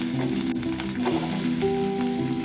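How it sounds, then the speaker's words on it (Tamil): Green chillies, cumin and dried chillies sizzle in hot oil in a pan, a steady, close crackling hiss with no voices. "ஒரு பேனில் எண்ணெய் ஊற்றி ஜீரகம், காஞ்ச மிளகாய் சேர்த்து வதக்கி பொடியாக கட் பண்ணி வச்சுருக்க பச்சை மிளகாய் சேர்த்து அதுவும் வதக்கணும்."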